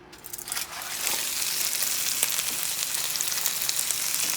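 Cube steak and onions sizzle steadily in a hot pan set a notch above medium for Puerto Rican bistec encebollado, a loud, continuous fry that swells after a brief quieter start, with no one talking.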